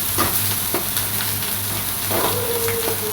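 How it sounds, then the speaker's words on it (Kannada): Chopped onions and coriander leaves sizzle and fry in a pan for an omelette, a steady close hiss with occasional stirring scrapes and no talking. "ಎಲ್ಲನೂ ಚೆನ್ನಾಗಿ ಮಿಕ್ಸ್ ಮಾಡಿ ಫ್ರೈ ಮಾಡಬೇಕು."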